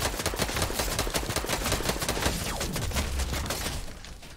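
Sustained video game gunfire from a solo pubs match, dense rapid shots cracking steadily and close, easing off slightly near the end, with no voices over it.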